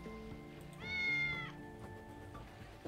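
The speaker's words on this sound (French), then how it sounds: "William n'arrête pas de miauler." William the cat in Tales of the Neon Sea gives a single drawn-out, rising meow that stands clearly above a soft, steady game music bed.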